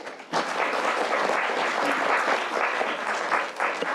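An audience in a senate hearing bursts into applause after a presentation, a dense burst of clapping that starts abruptly and holds steady for several seconds.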